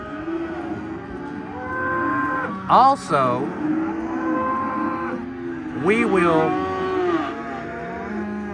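Weaned Angus-Mashona cross calves low steadily, with two loud, drawn-out moos rising above the herd's continuous bawling and someone speaking briefly over them.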